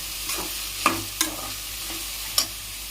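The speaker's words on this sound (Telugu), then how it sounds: "ఈ ఉల్లిపాయలు బాగా వేగే వరకు బాగా కలుపుకుంటూ ఉండాలి తర్వాత పచ్చిమిర్చి వేసుకోవాలి" Sliced onions and green chillies sizzle in a pan as a base for home-style chicken curry, with a soft, steady frying hiss broken by a few sharp scrapes of a stirring spoon.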